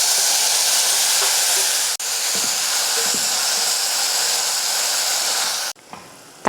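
Onions and tomatoes sizzle loudly in a hot pan for rasam, a steady close hiss of frying that cuts briefly near two seconds and drops off sharply near the end.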